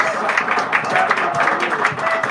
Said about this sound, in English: give her a nice round of applause as she comes up here to do the wowing thing